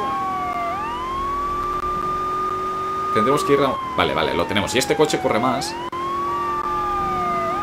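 Police siren from a car in Grand Theft Auto III wails in long rising and falling sweeps throughout, loud and steady, with people talking over the middle stretch before the wail continues alone.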